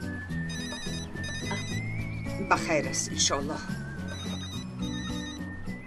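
An indoor telephone rings with a repeated electronic trill that carries over a busy background, while people keep talking around it.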